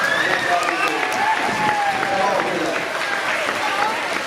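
A crowd claps and cheers steadily throughout, with voices mixed into the noisy applause.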